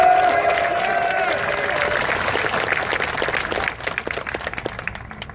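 A crowd at an outdoor union rally cheers and applauds loudly, dense clapping with shouts that gradually thins out into scattered claps toward the end, with a voice on a loudspeaker briefly audible at the start.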